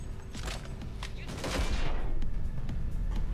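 Rapid bursts of gunfire from the video game Cyberpunk 2077, a dense fusillade of shots that swells louder midway and keeps rattling to the end, with no voices over it.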